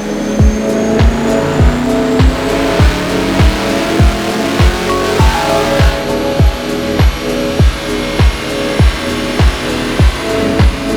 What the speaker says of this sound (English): So we were doing some gentle runs on the dyno.